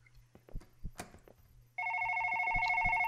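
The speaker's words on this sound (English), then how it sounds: "That's probably my phone ringing." After some soft footsteps and rustling, a phone's electronic ringtone starts abruptly and rings on steadily, fairly close and loud, over a faint low hum.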